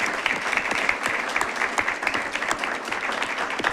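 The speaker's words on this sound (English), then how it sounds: "a round of applause is in order for that" Steady applause from an audience at a city parks and recreation board meeting, an even patter of many hands clapping throughout, fairly close and moderately loud.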